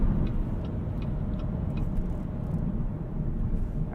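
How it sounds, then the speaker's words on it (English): A 2016 Chevrolet Volt slows from about 60 mph on regenerative braking alone, heard from inside as a steady low road and tire rumble with a faint hum, gradually easing and with no voices. "So slowing down from 60 miles an hour just with regeneration there."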